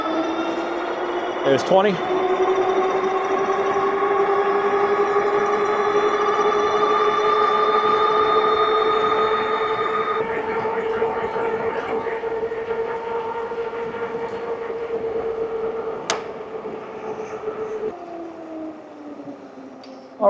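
A Varun X-Plorer Raptor e-bike accelerating on throttle alone gives a loud, steady electric motor whine that climbs slowly in pitch and then drops away near the end, with a brief spoken remark over it.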